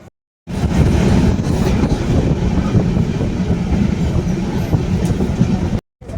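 A train rolls along the rails in the Konkan, a loud, continuous rumble with faint rhythmic clatter heard from close by, starting and stopping abruptly.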